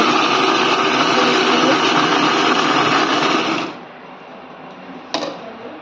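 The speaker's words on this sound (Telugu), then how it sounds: "మిక్సీ పట్టేయండి" A mixer grinder grinding chutney whirs loudly and steadily for several seconds, then winds down to a quieter hum, with a short clatter near the end.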